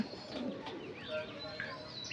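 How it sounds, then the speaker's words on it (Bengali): A Koka pigeon sitting on its eggs in a loft coos softly up close, mixed with faint chirps from other birds and a low murmur in the background. "এখানে আছে কোকা বাসিরাজ কোকা ডিম নিয়ে বসা"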